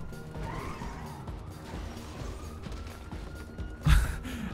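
A car drives in GTA, its engine droning steadily with tire and road noise throughout, ending in a sudden loud thump near the end.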